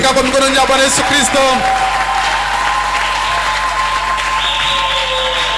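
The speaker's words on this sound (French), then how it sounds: "Est-ce qu'on peut acclamer pour le Seigneur Jésus?" A church congregation applauds and cheers for Jesus during a French-language evening service, a dense burst of clapping and voices that fades after a couple of seconds into a murmuring crowd under continuing music.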